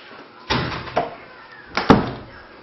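A house door in a home near the garage thuds shut, with a few sharp knocks and bangs spread over about two seconds, close by and with no talking.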